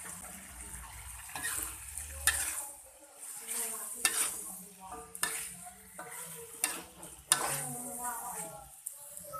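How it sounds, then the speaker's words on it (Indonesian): Garlic and chili stir-fried in a pan for beef skin sambal: soft sizzling broken by repeated scraping strokes of a spatula against the pan, close and fairly quiet. "Tambahkan bawang putih dan cabai yang tadi kita goreng."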